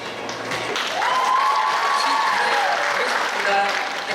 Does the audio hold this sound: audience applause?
yes